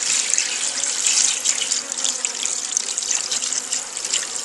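Liquid pours steadily into a beehive feeder, a continuous close splashing trickle with no pauses and no talk.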